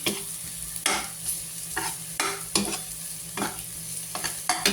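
Garlic, ginger, onion and chili fry in a pan with a steady sizzle, while a spatula scrapes through them in regular strokes roughly every second over a low background hum.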